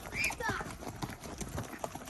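Horses walking along a road, a steady clip-clop of hooves on the hard surface nearby, with a short whinny near the start and people talking over it.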